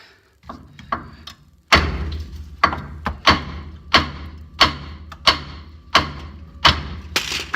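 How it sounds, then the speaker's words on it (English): Heavy hammer blows strike a rusty metal part in a steady rhythm, about a dozen sharp, loud, ringing thuds close by, with a few lighter taps at the start. "Bigger hammer."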